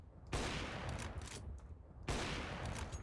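Gunfire from the Counter-Strike map Nuke, shots wallbanging through a wall, two bursts of rapid loud shots with a short gap between them.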